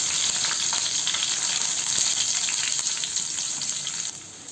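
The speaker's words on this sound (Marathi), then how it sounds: "लसणाचा कलर बदलेपर्यंत आपण परतायचं।" Garlic sizzling in hot oil with cumin seeds in a frying pan, a steady bright hiss close up that eases slightly at the very end.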